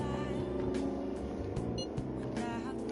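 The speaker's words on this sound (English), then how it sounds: "Jeez, loud car." Inside a Persona 5 Royal game scene, a loud car passes with a steady engine roar and tire noise that swells and fades over a few seconds.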